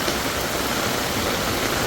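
Floodwater rushes through a village during heavy rain, making a dense, continuous roar that stays loud and unbroken throughout.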